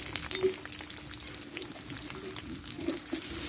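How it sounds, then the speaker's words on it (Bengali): Onion sizzles and fries in a pan with oil alongside black cumin and cardamom, giving a soft steady crackle with scattered pops and a faint stirring sound. "পেঁয়াজটা ভালোভাবে একটু লালচি করে একটু ভেজে পেঁয়াজটা ভালোভাবে আমি কষে নিয়েছি"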